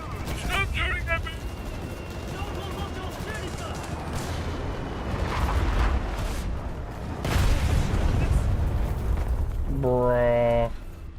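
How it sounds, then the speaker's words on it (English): Dense gunfire and booming explosions from War Thunder tank battles roll on almost without pause, with heavier blasts swelling around the middle and near the end, while a streamer talks over the din. "Stop shooting at me!"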